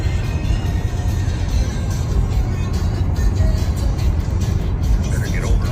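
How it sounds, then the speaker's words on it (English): Steady road traffic on a highway near Fargo, North Dakota, with cars and trucks rumbling past continuously, a loud low engine and tire roar filling the whole stretch. "A little more traffic."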